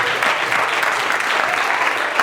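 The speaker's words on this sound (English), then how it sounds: "Give yourselves a round of applause." A live audience at a motivational leadership talk breaks into steady, dense applause, many hands clapping continuously and loudly for the whole stretch with no pauses.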